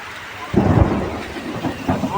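Heavy nighttime rain with thunder in Kolkata around 3 AM: a steady downpour hiss, broken by a loud low rumble of thunder that swells about halfway in and then rolls on under the rain, with a smaller rumble near the end.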